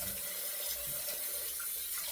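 A bathroom tap runs steadily, rinsing a face after a wet shave with an aluminum safety razor, a continuous close hiss of flowing water with no speech.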